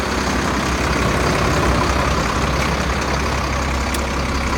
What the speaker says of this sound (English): Here's your cat engine, 6-cylinder turbo.